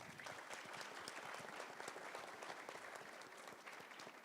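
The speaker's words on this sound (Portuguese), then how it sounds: "salve de palmas, turma" A small group applauds steadily, a dense even patter of many hands clapping at moderate distance with no voices over it, sustained from start to finish.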